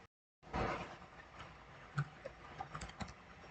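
Keys on a computer keyboard are typed while entering data into an RFID system, a faint, sparse run of soft clicks in a quiet room after a brief silence.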